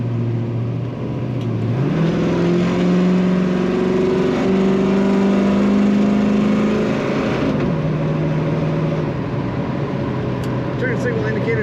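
A 1978 Chevrolet Camaro with an automatic transmission revs loudly and steadily, its engine tone climbing and settling in stepped pitches, with a voice talking over it.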